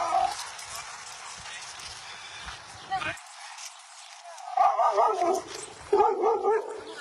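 A dog on a walk gives sharp barks and yips with some whimpering, close by, mixed with a person talking to it.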